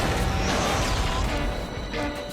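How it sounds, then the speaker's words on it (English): Cartoon train derailing and crashing, producing a loud, sustained smashing rumble with crashing debris that thins out toward the end. "The train derails and crashes, causing massive destruction."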